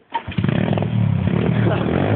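Small pit bike engine revving steadily with throttle held open, a loud close droning buzz that starts with a short cough and holds for about two seconds, with a voice speaking over it.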